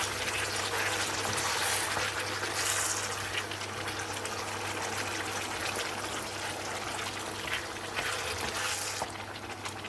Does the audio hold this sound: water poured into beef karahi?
yes